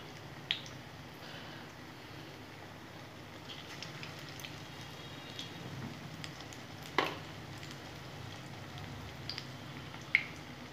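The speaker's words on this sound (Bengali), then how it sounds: "এরকম করে আমি বড়াগুলো আস্তে আস্তে ভেজে নেব" Saag bora, leafy greens fritters, slowly frying in oil give a soft, steady sizzle with occasional pops and small squishy clicks, faint and close, with no talking.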